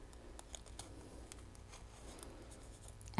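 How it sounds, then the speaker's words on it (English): Scissors snip through part of a DIY light bulb ornament, a series of soft, close, quiet cuts and rubbing sounds at the workbench, ending with a sudden louder knock. "I'm going to cut this part off"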